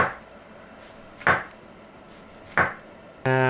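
A knife cuts vegetables into thick slices for burger pickles. Two sharp chops land on a board about a second apart, with a third starting at the end, and there is no talking.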